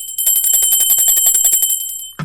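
A notification bell sound effect: a rapid, bright metallic ringing trill repeating steadily for about two seconds, loud and alone, ending with a brief low thump.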